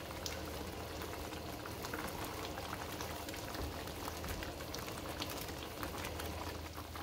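Mole verde with chicken simmers in a pot, giving a steady, close bubbling and popping that continues unbroken throughout, with no talk.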